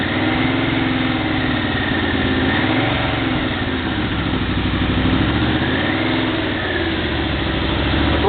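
A Yamaha Venture motorcycle engine runs with its throttle locked open during carburetor syncing, holding a steady, loud, close mechanical drone with a faint rise and fall in pitch and no talking.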